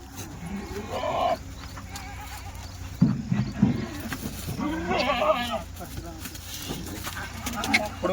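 Kathiawadi goats gathered for sale give a few scattered, wavering bleats at close range, separated by pauses filled with rustling and handling noise.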